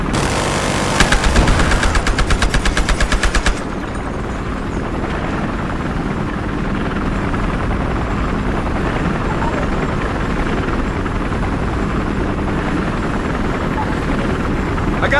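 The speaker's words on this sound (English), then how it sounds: "I got a chopper in sight." Helicopter from the video game Battlefield Hardline flying close and loud, its steady rotor and engine drone filling the scene, with rapid gunfire bursts in the first few seconds and voices talking over it.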